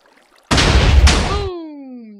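A TNT blast from a man cannon in Minecraft: one loud, sudden boom bursts in and rumbles for about a second, then a falling whistling tone trails off into silence.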